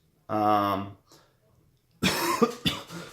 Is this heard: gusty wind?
no